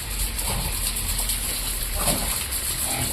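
Water splashes and gushes steadily while a one-year-old mixed-breed pig is bathed, with a constant wash of noise and a few louder sloshing surges.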